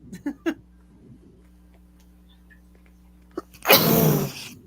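A few quiet clicks and breaths, then one loud, explosive sneeze bursting out close to the microphone near the end.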